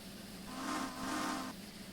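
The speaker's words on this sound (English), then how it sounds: "Really love having a dynamic whistle in this game," A steam locomotive whistle in a train simulator game mod, two sustained hissing blasts back to back of about a second in total, moderately loud with no talk over them.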